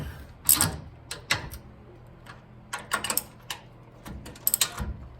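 A ratchet wrench snugging bolts on a Rough Country 2.5-inch lift kit under a 1965 Jeep CJ5, producing bursts of quick clicking and metallic rattles separated by short pauses, close and fairly clear.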